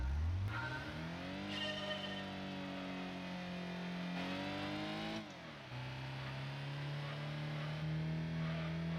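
A Nissan March engine hums and climbs through the gears on a circle track in Gran Turismo 2, its pitch rising then settling into a steady drone, with a short dip as it shifts midway; no voices.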